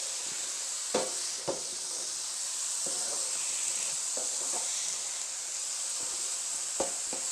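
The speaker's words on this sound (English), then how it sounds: "you want to break it up with a plastic spatula to crumble it even more" Crumbled low-fat sausage sizzles steadily in a frying pan, broken up with a plastic spatula that scrapes and taps the pan in a few soft, irregular strokes over the constant hiss.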